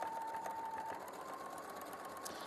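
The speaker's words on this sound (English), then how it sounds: "And so as this goes through the machine, it's cutting off, you can see there, it's cutting off the edge of the fabric, just like an overlocker would." A sewing machine runs steadily as it stitches and trims the edge of the fabric in one pass, much as an overlocker does. The motor keeps up a continuous whir with a faint tone, and no one speaks.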